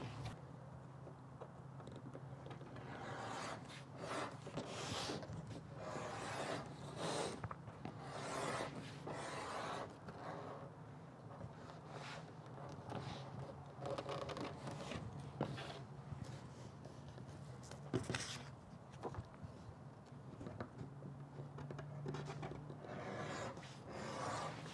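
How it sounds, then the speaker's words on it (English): Steady rasping and scraping as a groove is cut into a leather belt, a continuous rough rubbing that runs alone with faint mechanical noise and brief knocks. "I like to go over the groove twice to get it really deep and noticeable"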